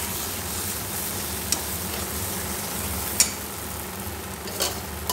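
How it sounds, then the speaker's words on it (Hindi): Green peas fry and get stirred with spices in a pan, a soft continuous sizzle broken by a few sharp clinks of a spoon against the pan. "मटर को थोड़ी देर इसी में भूजूँगी और इसमें पकाऊँगी"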